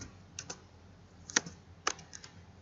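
Keystrokes on a computer keyboard while a search query is typed, a few scattered taps and two sharper clicks, close and quiet with no voices.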